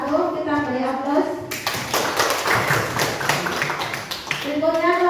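A classroom of students applauds a group of classmates, a burst of dense clapping that starts sharply after speech, continues for about three seconds, then fades as talking resumes.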